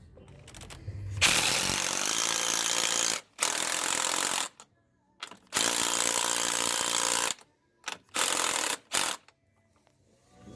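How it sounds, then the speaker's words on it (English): Pneumatic impact gun running down 9/16 battery nuts on golf cart battery studs, several loud buzzing bursts of a few seconds each separated by short pauses, close up with no talking. "Put on the impact gun."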